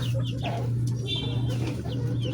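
Chickens clucking close by in a backyard setting beside a rabbitry, several short soft clucks and calls scattered over a steady low hum.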